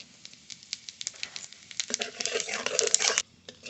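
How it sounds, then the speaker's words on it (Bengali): Bay leaf and whole cumin hit hot oil left from frying fish, giving a close crackling sizzle that starts as scattered pops and swells into a dense hiss before cutting off. "এই মাছের তেলেই ফোড়ন করে নেব তেল তেজপাতা গোটা জিরে"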